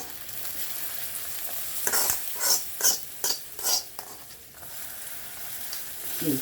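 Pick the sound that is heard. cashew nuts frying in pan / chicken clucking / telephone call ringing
cashew nuts frying in pan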